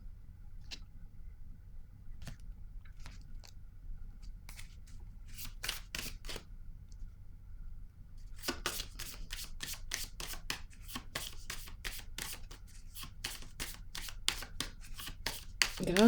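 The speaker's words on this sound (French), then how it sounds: "Je vais déposer une autre carte." Tarot cards are shuffled and set down on a table in a quiet room: scattered soft flicks first, then a brisk run of crisp riffling snaps, close and fairly faint.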